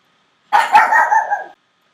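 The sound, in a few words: dog barking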